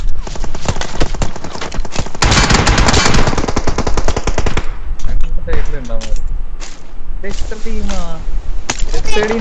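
Rapid automatic gunfire and single shots from a PUBG-style battle game, loud and dense bursts in a 1v4 match, with someone talking over the shooting throughout.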